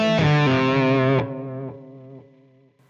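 Electric guitar played through a delay effect in AmpliTube 5 software rings out with a distorted sustained chord that cuts off, followed by several fading echoed repeats trailing into silence.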